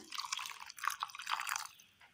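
A short trickle of water poured into a mixer jar, splashing unevenly for about two seconds before tapering off.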